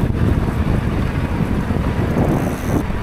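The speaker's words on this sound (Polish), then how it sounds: "Proszę, Maja teraz wskoczyła na M20 i sobie ciśnie." An M20 1000W electric bike being ridden fast gives a loud, rushing roar of wind buffeting the microphone with steady road rumble underneath, lasting a few seconds with no speech.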